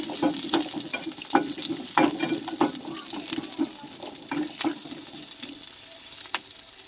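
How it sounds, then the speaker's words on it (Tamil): Whole shallots fry in hot oil in a pan for a paneer curry, a close, steady sizzle with crackling pops and occasional stirring scrapes, with no voices. "இதில் முழு முழு சின்ன வெங்காயத்தை போடும் போட்டு நல்லா நாலு வரக்கு"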